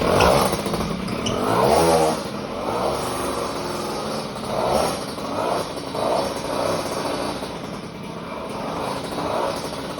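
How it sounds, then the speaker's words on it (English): A freshly rebuilt 103 moped engine runs with the choke on at its first start, buzzing steadily up close with repeated rises and falls in revs. "Gonna turn the choke on, see if this fires up."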